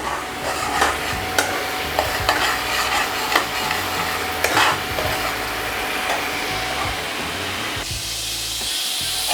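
A thick spice paste with a pinch of turmeric fries in a pan for a prawn kalia, a steady loud sizzle with regular stirring scrapes and taps, no talking.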